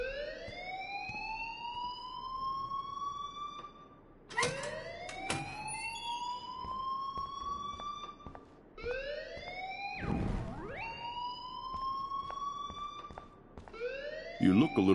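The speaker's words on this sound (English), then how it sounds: "please turn off that alarm" A school alarm in the video game Life Is Strange repeats rising electronic siren sweeps in a steady cycle, with short breaks between them, while people talk over it.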